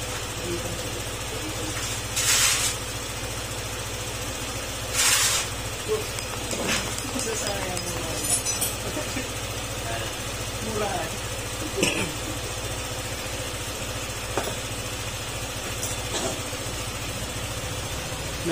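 A Honda ADV150 scooter engine runs at a steady idle under someone speaking during diagnosis. The scooter will not start once the engine is hot. Occasional clicks and knocks sit over the low hum.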